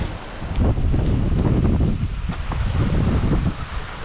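Steady gusty wind rushes and buffets across the microphone on a sailboat, a broad roaring noise that swells and eases, with no voices.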